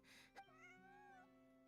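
A cat meows once, a short, clear, drawn-out tonal cry that rises and falls, quiet and close, over a faint steady hum, with a brief soft knock just before and a sharp noise at the very end.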